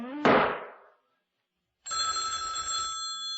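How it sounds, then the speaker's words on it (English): An old-fashioned telephone bell rings in a single loud, sustained burst, clear and close, following a brief sharp crash and a moment of silence. "Always let the phone ring more than once."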